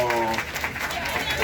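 Short burst of audience clapping at a youth literature talk during a book fair in Rosario, dense steady applause with a voice speaking over it.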